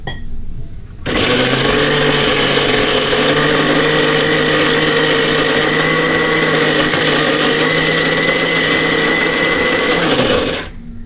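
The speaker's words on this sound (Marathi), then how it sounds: "वाटण आपण मिक्सरला वाटून घेऊया" A mixer grinder grinding Malvani spice paste whirs loudly and steadily for about ten seconds, starting abruptly and cutting off at the end, with no talking.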